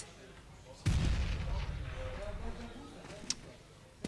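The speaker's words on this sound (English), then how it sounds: "Weak nade here." A single grenade blast in a Counter-Strike esports match lands with a sudden low boom, then a short rumbling decay as a commentator talks over it, followed by a couple of faint sharp pops.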